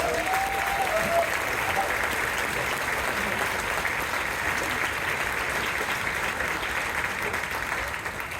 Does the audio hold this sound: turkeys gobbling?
no